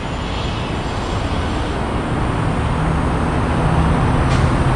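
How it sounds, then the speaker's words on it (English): Airtekk air ride suspension on an Acura TL airing up, a loud, steady compressor and rushing-air drone that holds continuously from start to finish, close by with no talking. "look how fast this thing airs up"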